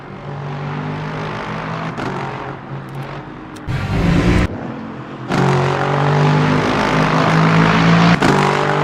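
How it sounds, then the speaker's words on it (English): In the Le Mans Ultimate racing game, a race car engine drones loudly and steadily, then drops through several quick downshifts with sharp pitch jumps before rising again, close and continuous with no talk. "Good downshifts."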